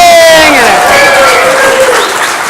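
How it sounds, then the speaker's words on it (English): A conference audience at an HR development congress breaks into loud, sustained applause with cheering and whoops, dense clapping filling the hall throughout. "I want people outside, especially my client, to hear a ravenous, loud clap for me"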